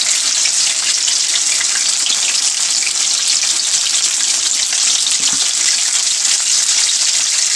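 Chicken leg pieces frying in hot oil, a loud, close, continuous bright sizzle and crackle throughout with no voices.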